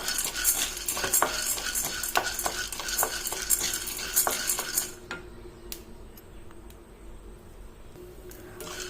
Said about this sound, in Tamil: ஒரு கப் உடச்ச கடலை சேர்த்துங்க இது நல்லா வறுத்து விட்டுக்குங்க